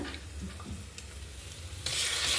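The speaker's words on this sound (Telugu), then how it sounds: "ఇప్పుడు మనం తీసుకున్న మటను, 1 కిలో మటన్ దీంట్లో వేసుకోవాలి" One kilogram of mutton goes into a hot pan for a Telangana-style mutton curry and is stirred, giving a steady close sizzle with scraping stir sounds that swell louder near the end.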